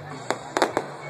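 Fourth of July fireworks over Charleston, West Virginia burst in three or four quick, distant cracks in close succession over a steady low hum.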